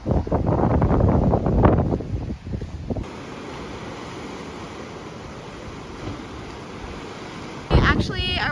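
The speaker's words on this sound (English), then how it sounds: "It's so windy." Strong gusty wind at the seaside cliffs on Jeju island buffets the microphone, with surf rumbling below. Brief voices come through early before the steady windy roar takes over.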